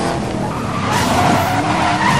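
A car in the Need for Speed Most Wanted video game drifts with loud, sustained tire squeal and skidding under engine roar, close and continuous.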